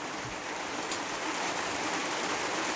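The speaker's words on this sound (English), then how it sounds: "this rain just isn't stopping at all." Steady rain pours down outside a cabin on a wet day, a dense, even hiss of drops on surfaces that carries on unbroken and fairly loud, with no voices or other sounds over it.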